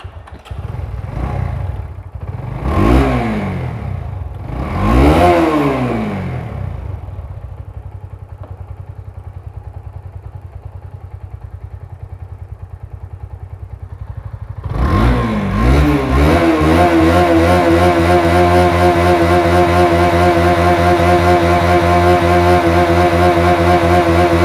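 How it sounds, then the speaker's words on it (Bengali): A motorcycle with a white-smoke engine oil problem is kicked over a few times, cuts out, then fires up and settles into a loud, close, steady idle. "তো ভিউয়ার্স, এখন বাইকটা আমরা স্টার্ট দিব,"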